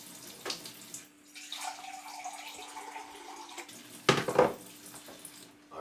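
Water trickles and splashes faintly into a bowl of plain flour for Jamaican dumplings, with a brief louder clatter and splash midway, in a home kitchen.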